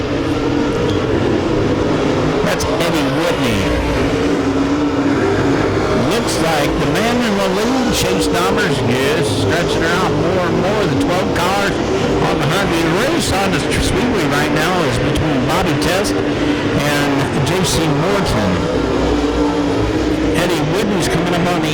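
Race cars in a heat race at Lake Ozark roar past in a continuous loud engine drone with rising and falling pass-by sweeps, while an announcer talks over the racket throughout.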